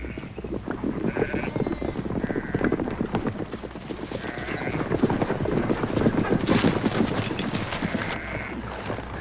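A flock of sheep bleating on a Western ranch, scattered close bleats over a dense trampling shuffle of hooves, steady and busy throughout.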